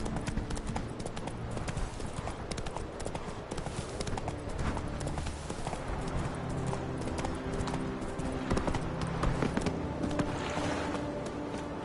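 Rhythmic hoofbeats of the horse Roach galloping in the video game The Witcher 3, a fast steady clip-clop over a constant background with no talk.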